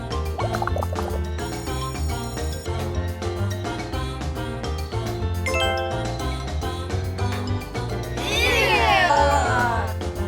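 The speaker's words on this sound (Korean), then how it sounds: "새끼 고양이야." A kitten meows repeatedly over busy background music, with a louder, drawn-out cry near the end.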